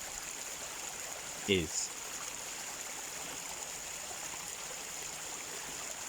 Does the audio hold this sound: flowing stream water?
yes